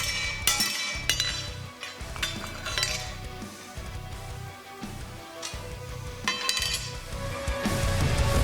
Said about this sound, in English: A few well-placed blows with a hand hammer gets our axe nice and straight